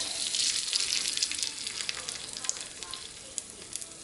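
Ebelskiver batter sizzles and crackles steadily in a Norpro cast iron pan, a bright frying hiss close up with small pops, gradually easing off.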